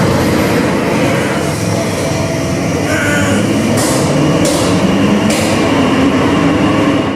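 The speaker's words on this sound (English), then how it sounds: "eventually the train comes back" A train rumbles and rattles loudly and close by, a steady clattering roar with faint metallic squeals, and no voices.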